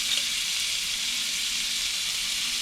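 Minced garlic sizzles steadily in a hot pan, a close, even frying hiss that holds constant throughout with no talking.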